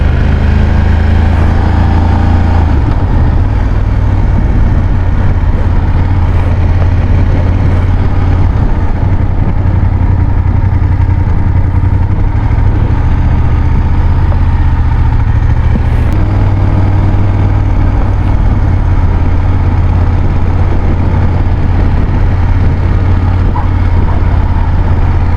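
Motorcycle engine riding through the city of Dresden, a loud, steady low drone that holds throughout, with wind and traffic around it.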